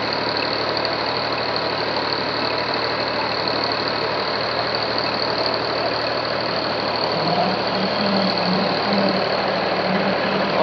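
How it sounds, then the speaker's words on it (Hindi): A tractor engine runs steadily beside a brick-making machine, a loud continuous mechanical drone with a faint rhythmic knock and no pauses, heard alone without talk. "ये ट्रैक्टर अब इसमें मट्टी डालेगा।"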